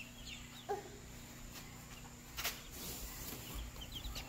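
A duck being held indoors gives a few short, soft calls and clucks, spread out over a low steady background hum.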